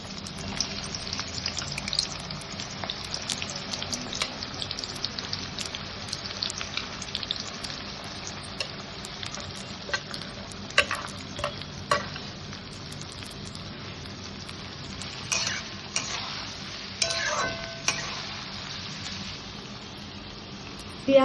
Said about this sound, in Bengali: এবার পেঁয়াজগুলোকে দিয়ে পেঁয়াজের বেরেস্তাটা বানিয়ে ফেলবো